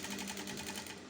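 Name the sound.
sewing machine top stitching a halterneck dress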